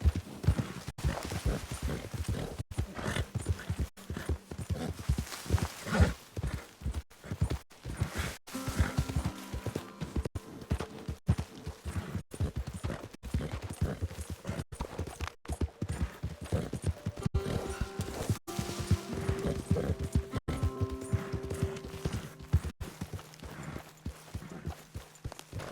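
Horse hooves clip-clop steadily in Red Dead Redemption II, a continuous rhythmic walking gait that stays close and clear throughout, with faint game music tones and occasional soft sounds beneath.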